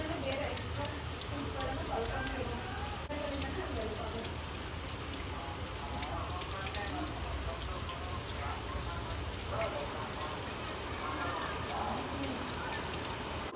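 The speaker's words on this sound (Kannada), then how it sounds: "ಅಲ್ಲಿ ಹೊರಗಡೆ ತುಂಬ ಚೆನ್ನಾಗಿ ಮಳೆ ಬರ್ತಾಯಿದೆ" Heavy rain falls steadily outside, a dense continuous hiss and patter on surfaces that holds evenly throughout, with faint sounds of a household in the background.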